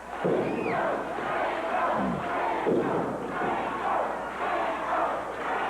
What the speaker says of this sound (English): Crowd once again trying to get solidly behind the team of Rainbow and Thunder.